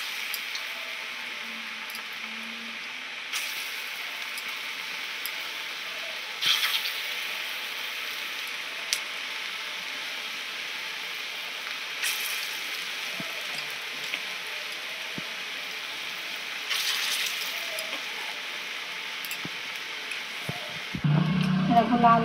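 Food sizzling steadily in very hot oil in a home kitchen, a continuous close crackling hiss with small pops and occasional louder spits, ending with a brief stir or clatter.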